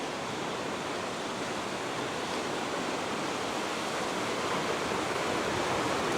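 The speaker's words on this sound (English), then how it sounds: "The waves actually are all right" Steady, unbroken surf roar from ocean waves breaking on the seaward shore, a dense wash of noise held at an even level throughout with no talk.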